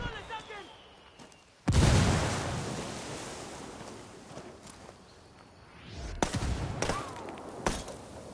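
A frag grenade goes off in Ghost Recon Wildlands with a sudden, loud, close blast and a long rumbling decay, followed a few seconds later by several sharp, heavy impacts.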